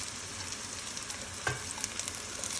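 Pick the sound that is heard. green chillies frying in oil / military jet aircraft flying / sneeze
green chillies frying in oil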